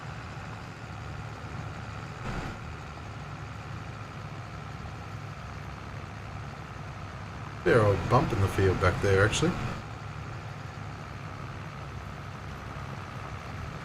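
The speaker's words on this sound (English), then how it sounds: "This tractor is performing nicely, pulling this plough, I tell you. For a 235 horsepower tractor" A steady low drone from a 235 horsepower tractor engine pulling a plough through a field in Farming Simulator 22 runs throughout, with someone talking briefly over it partway through.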